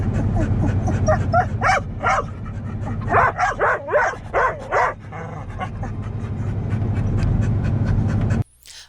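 Dogs barking and yipping excitedly inside a truck before a hike, a burst of loud, close barks in a quick cluster mixed with panting and whimpers over a steady low rumble, ending abruptly.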